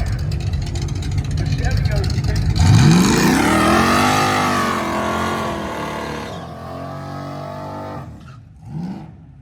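Drag racing cars, including a Willys pickup truck and a Dodge Challenger, launch loudly down the strip at a Sick Summer event in Cordova, Illinois, engines revving and rising in pitch before fading, with an announcer talking over them.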